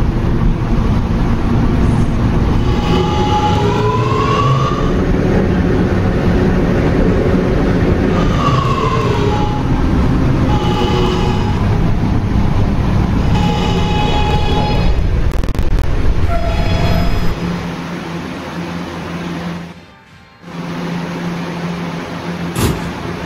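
An R211A subway train from Roblox PTA Subway runs with a steady, loud rumble and rising whine as it pulls away, the drone continuing throughout before easing briefly near the end.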